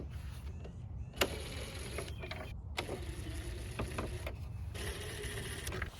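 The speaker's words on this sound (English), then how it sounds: "you're basically just gonna unscrew all of those screws" Screws are backed out of the grille on a 2022 Toyota Tacoma TRD Pro, heard as faint, close mechanical clicks and short ratcheting whirs separated by quiet pauses.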